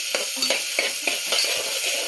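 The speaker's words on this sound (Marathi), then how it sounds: "त्यात आलं लसूण पेस्ट टाकून घेऊ। ती थोड्या 2 मिनिटं परतून घेऊ चांगली।" Ginger-garlic paste sautéing in a pan for khichdi: a bright, hissing sizzle with repeated quick scrapes and taps of a spatula at a brisk rhythm, close up and without talk.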